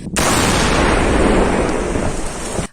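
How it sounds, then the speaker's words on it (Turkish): A controlled detonation of 180 kg of explosives by gendarmerie teams erupts in one loud, booming blast that rolls on as a heavy rumble for nearly three seconds, with no voices. "Ele geçirilen patlayıcılar jandarma ekiplerince kontrollü bir şekilde patlatıldı."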